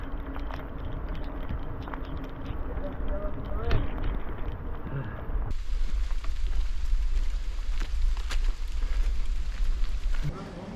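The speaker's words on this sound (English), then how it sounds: "It's raining inside of a cloud." Rain patters continuously under steady rushing wind and road noise while riding through a cloud on Old Mine Road, with the overall tone shifting abruptly partway through.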